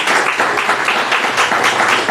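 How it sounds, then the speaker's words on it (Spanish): A church congregation applauds during a Sunday service, loud dense clapping from many hands continuing steadily and close without pause. "vamos a darle un fuerte aplauso a toda la gente que nos mira a través de YouTube"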